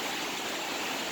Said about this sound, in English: you'll see some water coming out from the side wall, heading toward the street